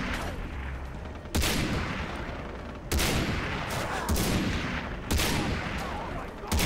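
Gunfire in Far Cry 3, loud rapid bursts of automatic fire in sustained volleys broken by short pauses, with a sharp fresh burst every second or two.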